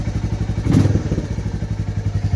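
A Royal Enfield Meteor 350 single-cylinder engine runs close up with a loud, rhythmic thumping exhaust beat, briefly blipping up in revs before settling back to a steady idle pulse, with no talk.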